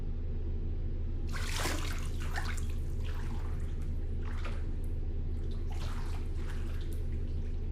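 Water splashing and trickling in a filled bathtub as someone is helped into a warm bath, with steady splashes and drips over a constant low hum, close and soft.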